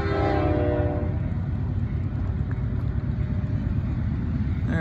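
BNSF locomotive 4637 leads a westbound freight train past, loud and close, with a horn blast at the start giving way to steady rumbling, rattling wheels and cars throughout.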